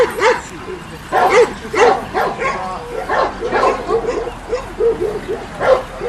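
Several Macedonian shepherd dog (Karaman) puppies, three to six months old, bark and yip repeatedly in short bursts, close by, with people talking in the background at a dog show.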